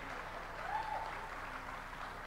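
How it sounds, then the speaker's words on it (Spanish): Small audience at a payadores gathering applauds the sound engineer, a soft, distant, even patter of clapping heard faintly throughout with a brief vocal sound in the middle. "Un aplauso para el amigo del sonido que nos ayuda todas las noches acá."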